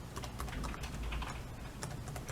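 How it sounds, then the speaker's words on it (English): Keys pressed one after another on a Sony Vaio laptop keyboard, a quick irregular run of close plastic clicks and taps, with no talking. "Just go through all the keys"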